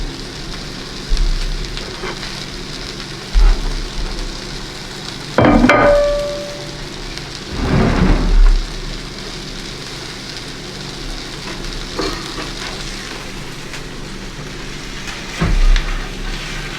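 Herbed trout frying in a pan on a stovetop, a steady soft sizzle running throughout with a few louder clattering bursts of the pan being handled, no talking.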